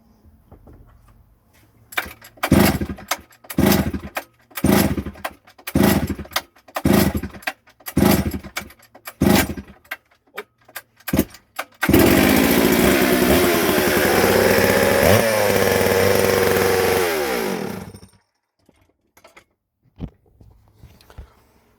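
Dolmar 153 chainsaw just after a rebuild: a string of loud pull-start attempts with the engine catching, then a harsh, close roar for about six seconds before it cuts out to near silence.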